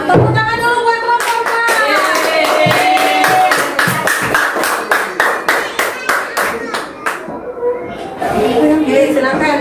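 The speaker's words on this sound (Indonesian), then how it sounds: "Tepuk tangan dulu buat kelompok" Applause breaks out in a classroom for a student discussion group, beginning under a teacher's talk and swelling into a burst of many hands clapping, thinning to scattered claps before speech resumes.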